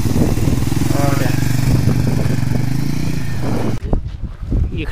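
A motorcycle on a trip through the Democratic Republic of the Congo runs loud and close with a steady engine drone for several seconds, then cuts off sharply as it brakes, leaving faint clatter.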